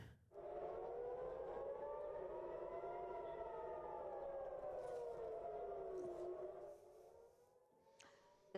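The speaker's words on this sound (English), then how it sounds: "The sirens sounding in Israel earlier" Civil defense sirens wail across Israel in a news broadcast, a loud rising-and-falling tone with layered harmonics holding steady for several seconds before fading away at the end.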